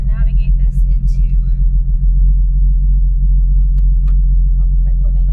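A blown Lotus Evora engine idles roughly, giving a loud, steady low rumble with an uneven, lumpy pulse that continues for several seconds at close range.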